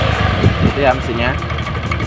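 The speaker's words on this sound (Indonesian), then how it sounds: "Itu ya mesinnya" A carbureted Honda Vario 110 motorcycle engine idles with a steady low hum under someone talking nearby.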